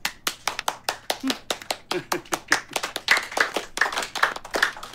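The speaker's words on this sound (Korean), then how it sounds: "자, 박수!" Office staff clapping together in a workplace, a burst of sharp, close hand claps that starts sparse and quickly builds into quick, overlapping rhythmic applause from several people, with brief voices mixed in.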